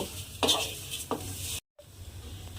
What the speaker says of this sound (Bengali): এই চিড়েটাকে আমি এর মধ্যে দিয়ে দিলাম। দিয়ে এবারে গ্যাসটাকে কমিয়ে দিয়ে চিড়েটাকে একটু লাল করে ভেজে নেব।